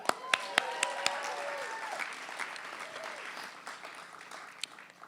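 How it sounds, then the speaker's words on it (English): Audience at an awards ceremony applauding, a burst of many hands clapping that begins strongly and gradually thins out, with a few scattered louder claps. "Give me one more clap."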